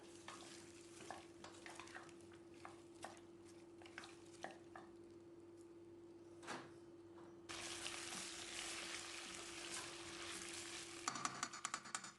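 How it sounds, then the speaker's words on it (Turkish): Potatoes fry in tomato paste in a pot, giving scattered stirring scrapes and taps at first, then a loud, steady sizzle that swells after a few seconds, with a burst of clattering near the end. "Salçalar güzelce kavrulduktan sonra şimdi hemen patatesleri ilave ediyorum."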